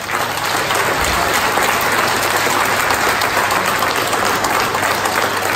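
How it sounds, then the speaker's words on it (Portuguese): Loud, dense applause from an audience at an association's anniversary speeches, a continuous roar of many hands clapping close by with no break. "uma grande, mas grande salva de palmas."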